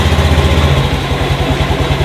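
Motorcycle engine with a freshly refilled MF battery, just fired by the electric starter and now idling loud and close, a steady low throbbing pulse with a faint rattle of vibration.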